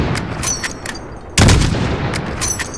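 A single sniper rifle shot in Call of Duty: Modern Warfare lands as one sharp, loud crack partway through, over a busy battlefield background with faint distant pops.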